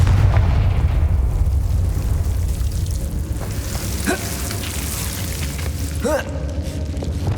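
Confringo, a fiery blast spell, goes off in Hogwarts Legacy: a loud, rumbling explosive burst over a dense, roaring game soundscape, followed by short whooshing magical effects.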